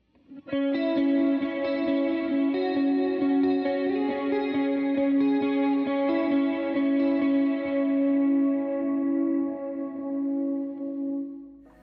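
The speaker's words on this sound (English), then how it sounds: "I have a short plate reverb on and it's just slightly modulated" A sustained electric guitar chord rings out with a deep, shimmering, slightly wavering chorus and a short, slightly modulated plate reverb tail, fading gradually.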